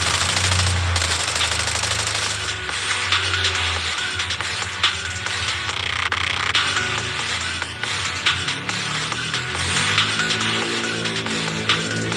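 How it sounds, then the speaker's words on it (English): Rapid bursts of automatic gunfire in Zenless Zone Zero rattle continuously with mechanical clatter, loud and sustained, like a game battle with no talking. "Gunfire? This pattern. Suppressive marching fire."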